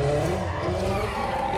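A Hyundai IONIQ 5 N plays its synthesized Ignition sound imitating a petrol engine, a loud steady engine-like drone with layered tones held throughout.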